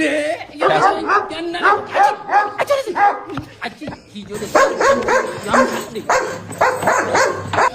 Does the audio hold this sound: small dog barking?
yes